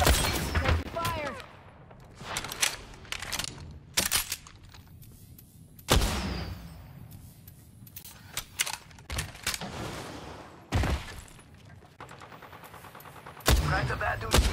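Gunfire from the video game Apex Legends, sharp shots and quick bursts spread unevenly over the stretch, loud and close against a busy game background, with a voice speaking between them.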